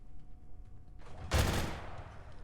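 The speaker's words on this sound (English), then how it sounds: "Meanwhile, I have here this rotative cannon." A rotative cannon in Trudograd lets off one short burst, a loud crackling blast that cuts sharply through a quiet low background and then fades into a lingering rumble.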